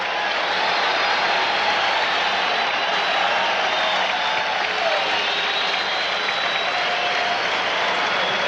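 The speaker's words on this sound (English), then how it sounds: "Fans applaud that play by Michael Jordan." A packed basketball arena crowd at a 1988 Bulls versus 76ers game applauds a play with dense, sustained clapping and crowd roar that stays steady and loud throughout.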